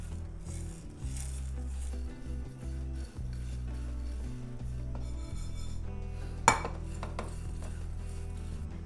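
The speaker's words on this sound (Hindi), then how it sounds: "पैन हो गया गरम। अब डालेंगे साबुत धनिया, जीरा और काली मिर्च।" Whole coriander seeds, cumin and black peppercorns dry-roasting in a hot pan, giving a steady close rasping, scraping rattle as they are stirred, with one sharp metallic clink near the end and no voices.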